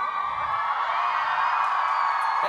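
A festival concert crowd in front of the stage at YleXPop 2013 roars and shouts in one sustained, fairly loud wash of voices, heard from a distance with no single speaker standing out.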